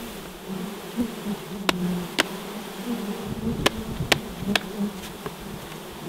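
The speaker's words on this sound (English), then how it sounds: "I think that's a box of bees." Dense, continuous buzzing of a mass of honeybees held in a box after transfer from a bee vacuum, loud and close, with a few sharp clicks and knocks on top and no voices.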